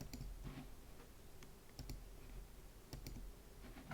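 A computer mouse clicks while setting up a WordPress backup plugin: several sharp, quiet clicks, scattered irregularly over a faint room hum with no talking.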